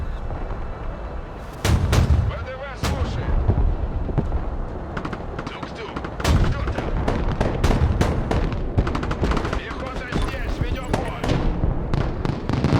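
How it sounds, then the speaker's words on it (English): A small mortar system fires in a modern military strategy game, sending repeated booming thumps and sharp blasts over a dense, continuous battle rumble, loud and layered, with a voice talking faintly beneath. "Try and hit him with artillery between the buildings here. Small mortar system, won't do too much damage"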